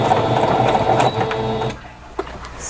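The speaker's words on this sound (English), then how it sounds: "this is giving me a really wide stitch, much wider than I want" A new sewing machine running a wide zigzag stitch, its busy mechanical chatter steady and close for under two seconds before stopping, followed by a faint click and quiet room tone.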